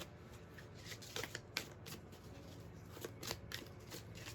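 Soul journey lesson cards are shuffled by hand, a quiet run of quick papery riffles and soft flicks repeating steadily throughout.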